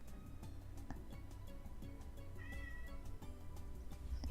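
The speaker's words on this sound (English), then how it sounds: "Sorry if you hear my cat." A cat meows a few times nearby in a quiet room, with soft ticking and small handling noises around it.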